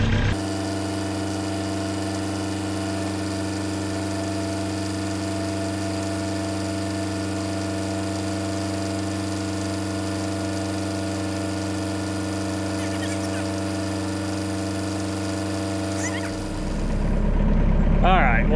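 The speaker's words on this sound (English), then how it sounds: "the tractor is what we have, and a tractor is what we're going to use" A tractor engine idles and runs at a steady, loud, even drone while scooping clay-heavy dirt, with a clunk and a change in tone near the end.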